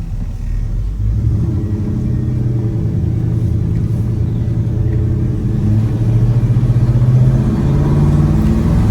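A 1985 Chevy C10 square-body 4x4 pickup with a swapped LS V8 rumbles deeply and loudly as it pulls away, the low engine growl building steadily and revving harder toward the end, with no talking.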